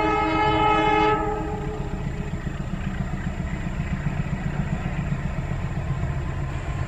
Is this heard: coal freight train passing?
yes